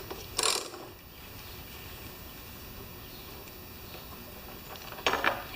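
A thread-cutting tool working new spark plug threads into a stripped Lawn Boy mower engine head, quiet ratcheting metal clicks near the start and end over a faint steady background hum.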